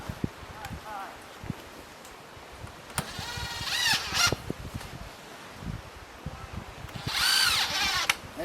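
Power drill driving fasteners into deck blocking and rim boards, with short bursts of whirring and several sharp knocks and clanks between them, close by and fairly loud.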